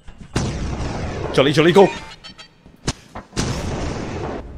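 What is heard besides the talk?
explosions in the video game Lethal Company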